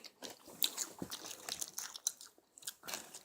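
Crunchy snacks are bitten and chewed close to the mic, giving a quick irregular series of crisp crunches and crackles at varying loudness with short pauses, with no talking.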